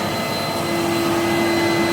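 Henry Hoover vacuum cleaner from the early 1980s running, a steady loud close motor whine with a constant tonal hum and airy rush, no pauses.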